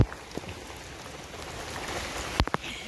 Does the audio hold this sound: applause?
no